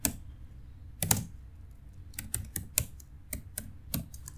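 Keys clatter on a computer keyboard as a Python command is entered, a short burst of close, quiet clicks followed by a run of evenly spaced keystrokes in a quiet room.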